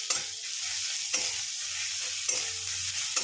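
A spoon stirs fish head and cabbage curry in a hot pan, scraping in a few slow strokes over a steady sizzle of frying, close and clear with no voices.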